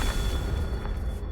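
A Confringo explosive spell blast in the Hogwarts Legacy video game: a dense, loud, sustained low rumble with a booming body that fills the whole moment and fades slightly at the very end.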